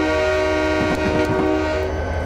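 SD40-2 diesel locomotive horn in a Train Simulator game: a loud, sustained multi-tone horn blast holding steady over the rumble of the moving train, near and without speech.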